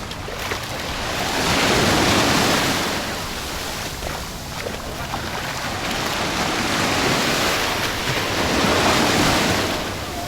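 Surf rolls in steadily at JBR beach in Dubai, with continuous broadband wave wash swelling and easing over ten seconds alongside gusting wind noise on the microphone.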